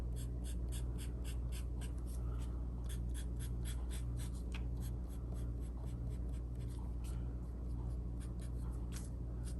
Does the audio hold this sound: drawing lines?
yes